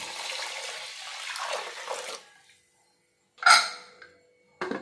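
Water is poured into a pressure cooker holding rice for sweet pongal, a soft splashing stream lasting about two seconds, followed by silence and two short metallic clatters of the cooker.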